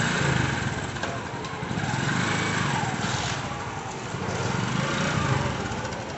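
A bike's small engine runs steadily nearby on a street, its buzzing drone rising and falling gently as the throttle varies.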